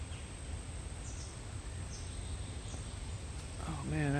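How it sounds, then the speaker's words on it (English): Small birds squabble in the woods on a morning walk, with faint scattered chirps at first and a louder cluster of rapid chattering calls bursting in near the end over steady outdoor hiss. "I hear some other squabbling little bird up here."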